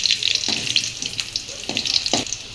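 Dried chillies fry in hot oil in a pan with a continuous bright sizzle, broken by a few soft clunks of stirring.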